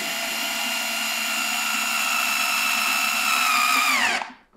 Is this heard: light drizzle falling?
no